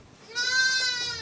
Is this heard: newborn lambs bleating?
yes